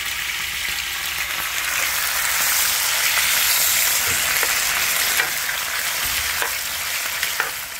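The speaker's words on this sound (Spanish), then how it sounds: "Ahora sí se ponen a freír, porque lo demás está pues a un lado." Tomato, onion and garlic fry in a pan over a home stove, a steady bright sizzle and crackle with occasional stirring scrapes, close and continuous without voices.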